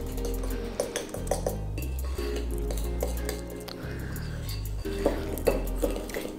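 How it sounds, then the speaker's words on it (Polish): Spelt flour, cocoa and xylitol batter being mixed in a bowl for a sweet omelet, with a utensil clinking and scraping against the bowl in an irregular rhythm, close and moderately loud, over steady background music. "do tego 45 g mąki orkiszowej, łyżeczkę kakao, 10 g ksylitolu i teraz całość dokładnie mieszam."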